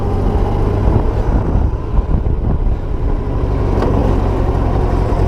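Honda Goldwing motorcycle engine running steadily on a test ride after a regulator rectifier replacement, a continuous loud low rumble with wind noise and no talking.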